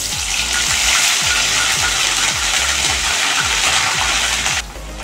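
Onion paste hits hot oil in a pan for Bengali katla fish kaliya, a loud, continuous close sizzle with repeated soft scraping stirs, easing slightly at the very end.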